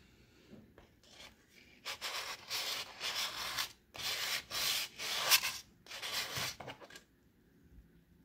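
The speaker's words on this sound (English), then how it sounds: "The top rim has a little bit of white paint and I think the sandpaper will do a good job of removing it." Sandpaper scrubs across the white-painted top rim of a vintage wooden salad bowl in a string of close, rhythmic bursts, each stroke a dry rasping rub, with short pauses between them and no talking.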